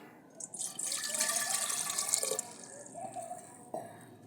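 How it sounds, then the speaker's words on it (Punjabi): Water pours into a cooking pot set on a fire in a village kitchen, a steady splashing gush that swells, then tapers into drips and trickles, close by with no talk. "ਹੁਣ ਆਪਾਂ ਪਾਣੀ ਪਾਵਾਂਗੇ"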